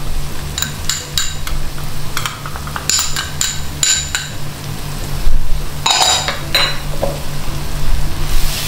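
Rendang spice paste with kayu masohi bark, gongso coconut and paprika powder being stirred in a pan: a steady oily sizzle under scattered clinks and scrapes of a spoon against the pan.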